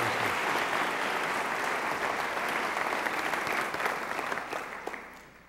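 Warm audience applause in a university auditorium welcoming lecturer Dr. Fred Van Dyke to a symposium, a steady dense clapping that holds for several seconds and then fades out, with no voices over it.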